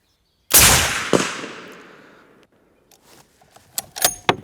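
One sharp, loud shot from a British sniper rifle cracks nearby and echoes away over a couple of seconds, followed by faint clicks and handling noises.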